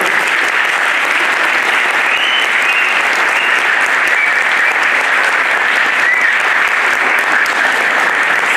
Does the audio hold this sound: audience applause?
yes